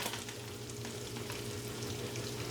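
Beef pieces browning in a little oil in a pan for a whisky beef stew, giving a steady, close sizzle and crackle that holds evenly throughout with no talking.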